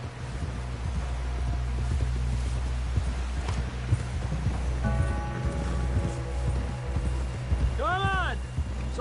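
Horse galloping in a PS4 video game, rhythmic hoofbeats pounding steadily throughout with wind noise and occasional voices talking over it.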